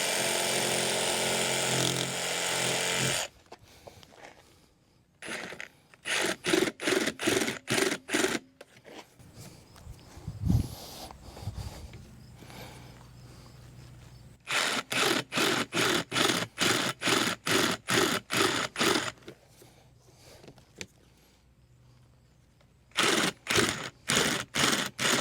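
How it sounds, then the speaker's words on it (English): A jigsaw cuts a notch in a luxury vinyl floor plank, sounding as loud bursts of rapid rasping strokes separated by pauses and a few thumps of handling. "take a jigsaw and we'll cut this piece out"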